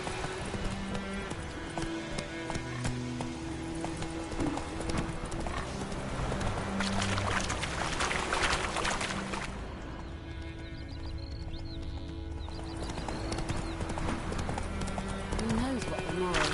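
Roach the horse trots in The Witcher 3: Wild Hunt, its hooves making rhythmic clip-clops under steady game music, with a short neigh and spoken dialogue partway through.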